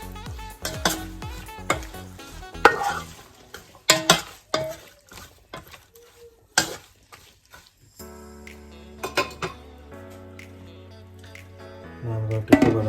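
Tomato and two green chilies stirred in a frying pan, with repeated spoon scrapes and clinks against the metal over a soft sizzle, no voices.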